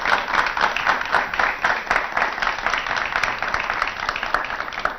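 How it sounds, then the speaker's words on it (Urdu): Studio audience at a television talk show claps steadily, a dense, even patter of many hands lasting several seconds with no talk over it. "تو ذرا تالیاں بجا کر"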